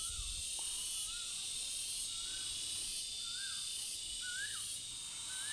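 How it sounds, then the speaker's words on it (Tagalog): Crickets chirp steadily outdoors on a hillside on a tour of Albay, a constant high shrill trill with faint bird calls rising through it now and then. "Kuliglig. Narinig niyo po yan, kuliglig."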